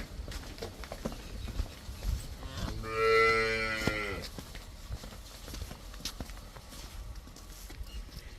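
A Jersey cross cow on a farm lets out one drawn-out moo midway, close by, with hoof clops and shuffling around it.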